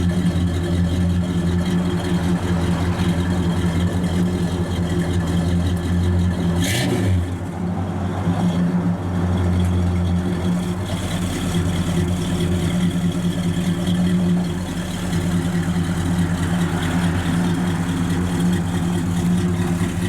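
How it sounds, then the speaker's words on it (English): A 1971 Buick Skylark convertible's engine idles with a steady low rumble through Flowmaster dual exhaust in the stock location, with a brief rev near the middle before settling back to a continuous loud idle. "A good sound out the exhaust."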